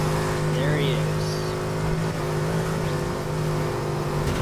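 A Koenigsegg engine in a racing video game holds a steady, droning whine at high revs, loud and continuous, with someone talking over it.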